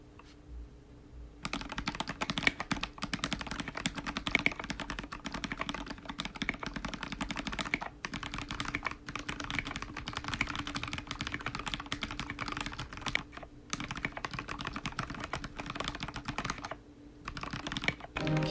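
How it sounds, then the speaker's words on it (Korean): Someone types steadily on an aluminum mechanical keyboard fitted with lubed Gateron yellow linear switches and Domikey SA keycaps, a dense run of close, soft, muted keystrokes with a few brief pauses. "흔히 목탁 소리라고 부르는 리니어와 SA 키캡 조합 특유의 매력은 그대로 들렸습니다"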